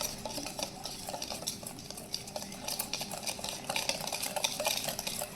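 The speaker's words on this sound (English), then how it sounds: "And keep stirring" Cocoa mixture for thick Italian-style hot chocolate being stirred in a pot as milk is added, quiet repeated scraping and clinking of a spoon against the pan, close and continuous with no talking.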